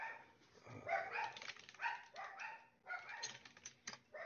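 Faint barks from a dog come in a loose, repeated series, quiet and somewhat distant, with no talking over them.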